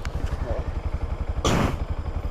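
A Honda ADV150 scooter engine putters in a close, rapid, even pulse on a muddy trail. A brief louder rush of noise breaks in midway, and a voice can be heard faintly.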